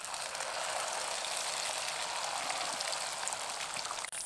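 Sweet batter fries in hot oil in a pan, a steady broadband crackle and patter like light rain running unbroken throughout, close and fairly loud, with a brief clatter near the end.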